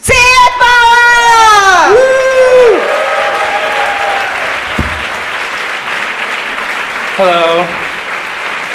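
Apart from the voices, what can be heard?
audience applause for Alex Franz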